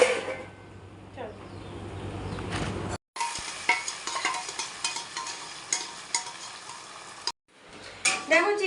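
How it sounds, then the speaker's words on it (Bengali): Onion fries with a little salt in a pan over a home stove, a continuous close sizzle broken by repeated scraping stirs of a utensil, with a couple of brief pauses and a voice talking over it. "তো চলো এখন পেঁয়াজটা ভাজা হতে থাক"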